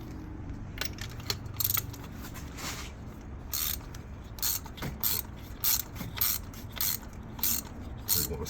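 Ratchet wrench with an extension and 5/8 socket backing out spark plugs on an Audi 3.0T engine: rapid bursts of metallic pawl clicking in short repeated strokes, close and fairly loud, with light clinks of tools between.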